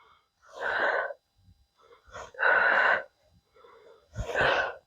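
Three forceful, breathy exhales during a home strength workout, each a rough burst of air about half a second to a second long, separated by brief quiet gaps.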